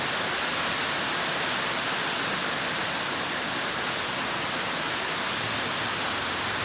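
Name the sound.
rain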